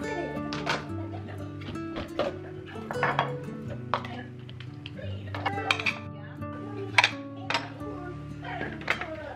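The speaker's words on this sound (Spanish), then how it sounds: "empiezo a sacar todos los platos limpios del lavadero de platos y los guardo en el lugar que les corresponde" Clean dishes are unloaded from a dishwasher and put away, with scattered clinks and clatters of plates and cutlery over a steady musical background.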